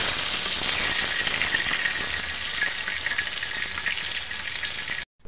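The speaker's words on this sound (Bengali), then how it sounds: "মাছ ভাজি করা তেলেই তরকারি রান্না আলুটা একটু করে ভাজি করে নিতেছি" Potatoes frying in oil left over from frying hilsa fish, a steady loud sizzle and hiss with light crackling throughout, cutting off abruptly near the end.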